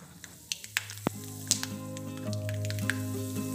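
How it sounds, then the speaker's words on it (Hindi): Peanuts frying in hot oil in a pan, a steady close sizzle with scattered pops and crackles, no talking. "मूंगफली के दाने हल्के से रेड हो जाए तब तक हम तलेंगे"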